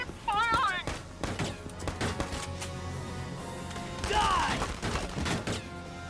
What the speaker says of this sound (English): Fire from the hip and just take him down.